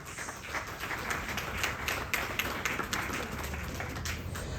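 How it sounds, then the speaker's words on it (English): Audience applause at an outdoor Ramayan in the Park event honoring a couple's 34th wedding anniversary, a steady wash of scattered clapping that stays fairly even and moderately loud throughout. "Please give a very hearty round of applause to my parents."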